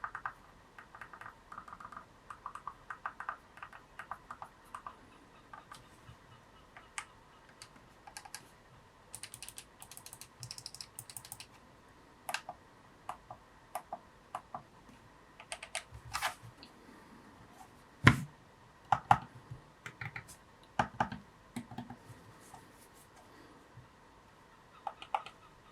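Button clicks from a GameSir G7 HE controller come as sparse, quiet taps and short bursts of clicking, close up and alone against a faint background.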